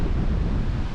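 Wind buffets a microphone outdoors beside an old engineering works, a loud, continuous low roar and rumble filling the whole moment with no voices.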